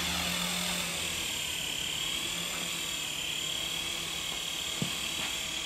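A small R100G remote-control model helicopter hovers indoors, its rotor giving a steady thin high-pitched whir that stays constant and fairly faint, with a brief knock near the end.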